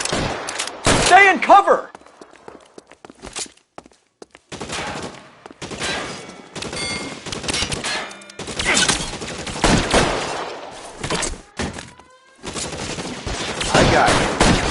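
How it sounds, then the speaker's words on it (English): Suppressing fire in a video game, loud bursts of rapid gunshots and machine-gun volleys coming in uneven clusters with short gaps, close, with a voice speaking briefly between the shots. "Suppressing fire."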